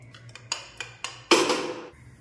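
A pressure cooker filled with dal, turmeric and salt is set on a kitchen stove. Several sharp metallic clanks and knocks are heard up close, followed by a louder scraping clatter of metal, with no talk.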